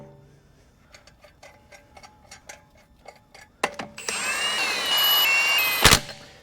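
Wheel going back onto a 2003 BMW E39 540i M Sport during a front brake service: a rapid run of ratcheting clicks from lug bolts being spun in, then a loud whirring impact-style tool burst ending in sharp hits.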